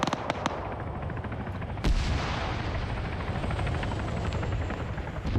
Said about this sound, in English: Yep, there goes another shot out.